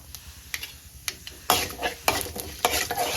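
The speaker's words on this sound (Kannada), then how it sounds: "ಎಲ್ಲ ಫ್ರೈ ಮಾಡ್ತಾಯಿರಿ, ಲೋ ಫ್ಲೇಮಲ್ಲೇ ಇರಲಿ" Cumin seeds frying in a pan on low flame, a sizzling bed broken by sharp scraping stirs and clinks of a utensil on the pan, growing louder and busier halfway through.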